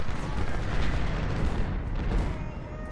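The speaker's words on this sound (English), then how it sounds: "A lot of artillery up in here." Distant Civil War artillery in Ultimate General: Civil War rumbles as a dense, continuous roll of low booms during the Fredericksburg battle, heavy and unbroken for the whole stretch.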